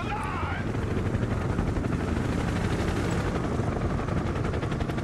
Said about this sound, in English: Our fourth chopper arriving.